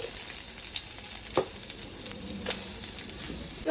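Chopped onion frying in hot oil with panch phoron, giving a loud, continuous close sizzle with a few sharp scrapes and pops, and no voices.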